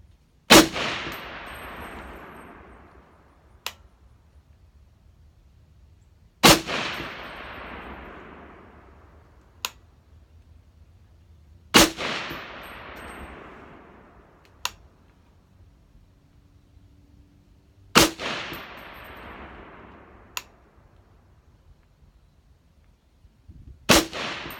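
Knight's Armament SR-25 rifle fired at bowling pins 100 yards away outdoors: five loud, sharp shots roughly six seconds apart, each trailing a long, fading echo, with a brief faint tick following some of them.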